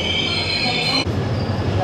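The Varanasi Mysore Express pulls out of Jabalpur Junction with a loud, steady rumble from onboard and high metallic wheel squeal that shifts partway through, close and continuous.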